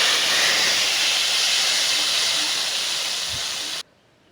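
Loud, steady sizzling hiss of chili and cumin tempering in hot oil for chicken kofta curry, close up, fading slightly before cutting off abruptly near the end.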